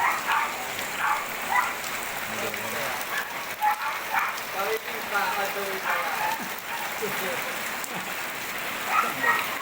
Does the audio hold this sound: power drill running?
no